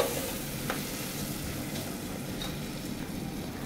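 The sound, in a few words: stirring and frying tomato masala in a pan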